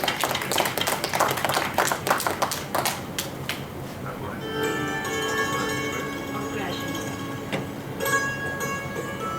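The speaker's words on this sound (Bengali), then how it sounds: "গার্গির জন্য আমরা একটু জোরে করতালি দিয়ে গার্গিকে সম্বোধনা দিতেই পারি" An audience at the opening ceremony of a Bengali theatre festival claps loudly in a dense burst for the first few seconds, then a bell-like ringing tone lingers as the applause thins out.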